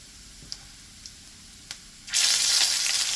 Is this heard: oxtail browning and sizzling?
yes